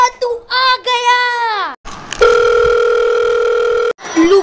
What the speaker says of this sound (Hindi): मम्मी का फोन आया था